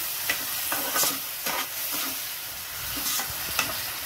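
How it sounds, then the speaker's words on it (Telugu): Tomato, curry leaves and green chillies fry in a pan with a steady hiss, broken by soft rhythmic scraping strokes of a spoon every half second or so, close up and without speech. "టమాటా బాగా వేగే వరకు వేసుకోవాలండి"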